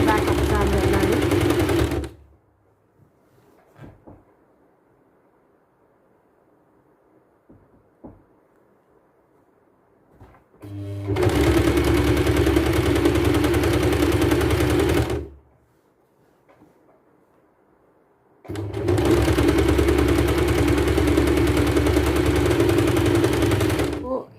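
A sewing machine stitching a back dart on a kurti runs in three loud, steady bursts, with quiet pauses and small handling clicks between runs, close by.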